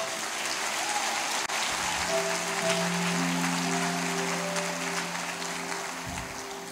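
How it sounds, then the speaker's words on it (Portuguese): A church congregation applauds in worship, steady clapping over sustained organ or keyboard tones, with the clapping spread like rainfall across the room. "Aplaude Jesus"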